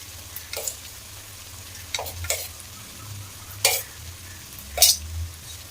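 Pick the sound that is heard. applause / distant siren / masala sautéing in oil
masala sautéing in oil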